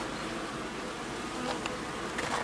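Honey bees buzz on a hive frame during a beehive inspection, a dense, steady hum of many insects close by with no talk.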